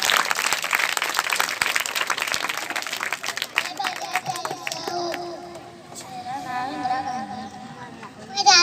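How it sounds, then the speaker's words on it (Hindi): Applause from an audience at a Republic Day school event in Aurangabad as children come on stage: dense, noisy clapping and crowd bustle for the first few seconds, then thinning out under children's voices and chatter. "अब मैं तमाम नन्हे रहनुमाओं को आवाज देता हूँ कि वो स्टेज पर आए, तालियों के साथ इस्तेमाल करें।"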